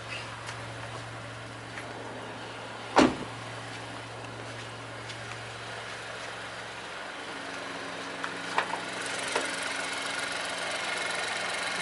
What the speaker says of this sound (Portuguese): Opa, abrimos o motor, ele tá ligado.